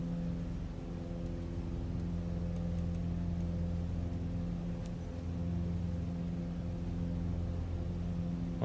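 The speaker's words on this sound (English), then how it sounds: "Can you hear the engine now?" A light aircraft engine hums during the climb in the video game Microsoft Flight Simulator 2024, a steady low drone holding an even pitch throughout, fairly quiet and alone.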